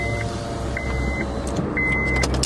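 A car's power window motor whirs in two or three short, steady runs while the window slides open, all over a low idling hum inside the car.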